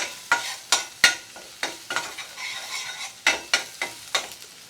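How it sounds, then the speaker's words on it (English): Garlic cooks gently in a little oil under a soft sizzle, punctuated by a regular series of sharp spatula strokes against the pan, roughly two per second. "A little bit of oil, a little bit of garlic in. Yep. We're just going to cook it gently."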